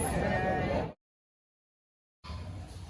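Sheep bleating at the Amingada sheep market, two loud, close bursts of bleating split by a sudden gap of silence.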